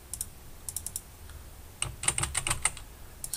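Someone types text on a computer keyboard while working in AutoCAD, giving light, crisp keystrokes in short irregular bursts. The bursts start sparse and become a denser cluster of quick taps partway through, heard close and alone without talk.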